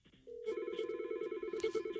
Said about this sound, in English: Phone rings here.